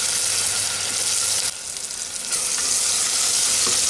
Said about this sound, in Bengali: এখন এই টমেটোটা যাতে সেদ্ধ হয় তার জন্য এটাকে একটু সময় নিয়ে ভাজবো।